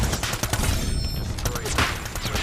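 Rapid gunfire in the mobile shooter Call of Duty Mobile, dense bursts of shots running throughout at steady loudness, with players' voices talking over it.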